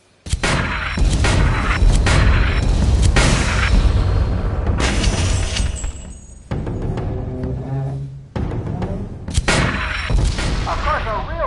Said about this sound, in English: Get on the mortar and finish the piece of junk off